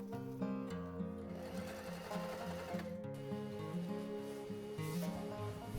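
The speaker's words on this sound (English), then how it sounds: "before I sew this on my sewing machine" A sewing machine stitches chair upholstery fabric, a steady mechanical hum with rapid rhythmic needle clatter running continuously and close, with no talking.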